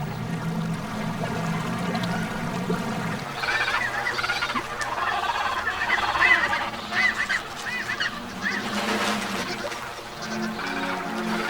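Penguins in Antarctica call in a dense, honking chorus, loud and close, with overlapping brays and squawks layered over a steady background wash.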